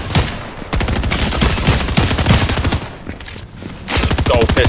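Gold pistol fire in Fortnite: rapid, loud cracking shots in dense bursts, close up, with other gunfire around and talk at times.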